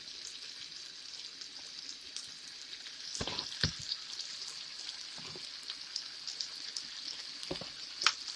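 Turkey Salisbury steaks fry in a pan with a soft, steady sizzle, punctuated by sharp spatula scrapes and taps as the patties are turned over.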